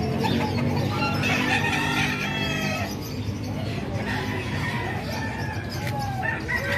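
Chickens cluck and a rooster crows faintly amid a busy gamecock market, the birds' calls mixed with crowd murmur and someone talking nearby.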